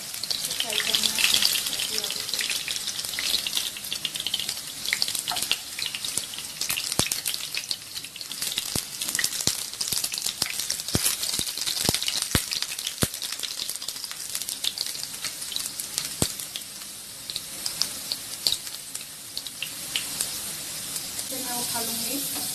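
Potatoes frying in a pan for a chicken curry, a continuous bubbling sizzle with crackling pops and occasional stirring scrapes.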